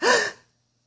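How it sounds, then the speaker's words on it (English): A single short, sharp intake of breath, a quick surprised gasp that fades out within half a second, followed by silence. "That's a gasp."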